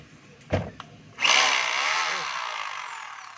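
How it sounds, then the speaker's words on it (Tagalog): A DeWalt D25032 rotary hammer is tested: two short knocks, then the tool starts up loud and close and runs steadily with a broad whirring, hammering buzz that tapers slightly toward the end. "titesting natin yung kanyang hammer"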